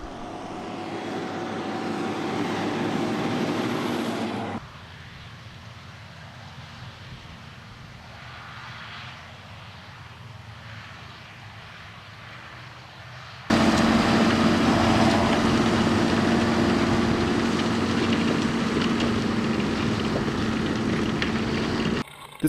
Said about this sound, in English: here we see the Lemken 7-4 semi-mounted slatted board plough with their John Deere 7430